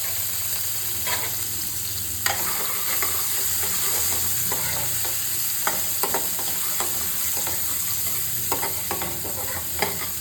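Chili and onion sizzle steadily in hot oil in a pan, tempered with a pinch of asafoetida and curry leaves, with continuous frying hiss and occasional stirring scrapes and clicks.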